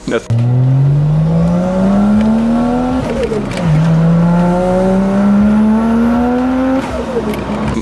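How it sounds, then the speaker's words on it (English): A Nissan 300ZX with a custom exhaust revs up in long rising pulls, loud and close, dropping off between revs, with a deep throaty drone throughout. "That's my exhaust sound right there."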